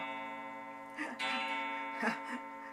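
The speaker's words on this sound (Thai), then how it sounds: "โอ้ยเสียงนาฬิกา" A clock ticks steadily in a quiet kitchen, its even tick-tock sitting under a constant faint hum, with a few brief clatters and soft voice-like sounds breaking in.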